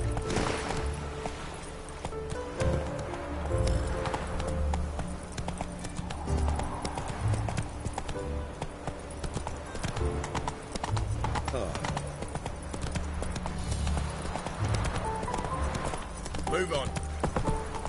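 A horse gallops in The Witcher 3, hooves pounding in a steady rapid rhythm throughout, with game dialogue and a speaking voice over the top.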